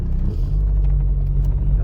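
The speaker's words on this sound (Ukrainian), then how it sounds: "вмикаємо передачу і відновлюємо рух" A car engine rumbles low and steady from inside the cabin during a driving test on city streets as the car is put in gear and moves off. There is no clear revving.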